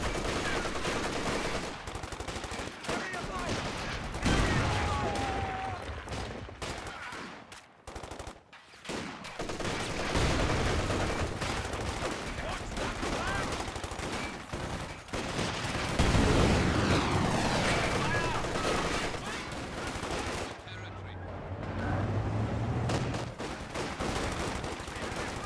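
Machine gun fire rattles in long bursts through a wall during a Company of Heroes 2 tournament match, loud and continuous battle noise with brief drops, with almost no voice present.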